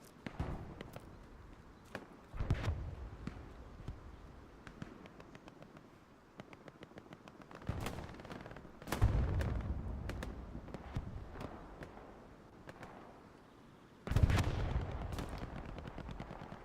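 MG42 machine gun fire in the game Hell Let Loose, several bursts heard at a distance over a low battlefield rumble, with sharper, nearer shots rising out of the mix.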